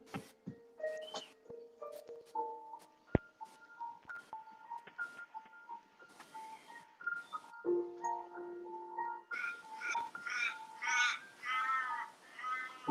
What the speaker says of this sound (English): You can hear some birds.